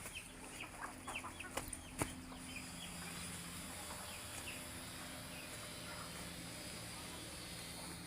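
An Indian rooster in a new coop gives a few faint clucks and calls early on, set against a steady farmyard hum with a soft voice in the background.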